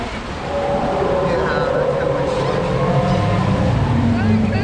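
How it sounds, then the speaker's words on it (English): A large wave crashes and splashes over a raft on a river rapids ride at Disney California Adventure. The rushing, roaring water is loud and close, with voices talking underneath. "Bit of a mega wave there."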